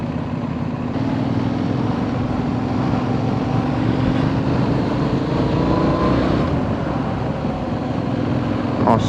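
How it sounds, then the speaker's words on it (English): A motorcycle on the move at an ABR Festival ride, its engine droning steadily and close, with a shifting pitch as it changes gear smoothly and pulls on. "Nice smooth gear change."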